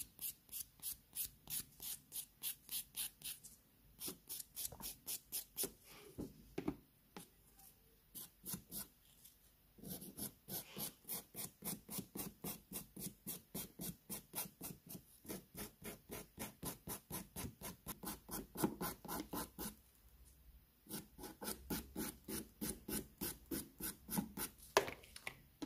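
Rapid, evenly spaced rasping strokes of a nail file shaping nails for a babyboomer manicure, close and soft, continuing in steady runs with a few short pauses.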